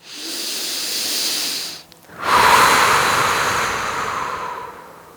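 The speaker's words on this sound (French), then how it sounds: "Une grande respiration" During a yoga exercise, one person takes a deep breath: a long, close, airy inhale, a brief pause, then a fuller, louder hissing exhale that slowly fades, with no speech.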